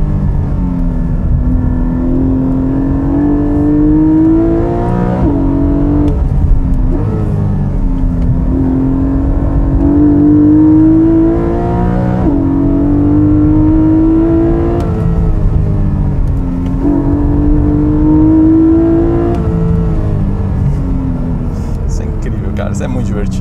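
Porsche sports car engine revving hard to the limiter again and again, rising pitch sweeps cut off in repeated bursts, loud and close from inside the cabin, with a voice talking over it.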